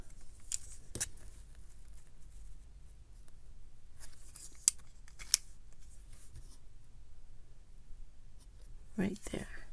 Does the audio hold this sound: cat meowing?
no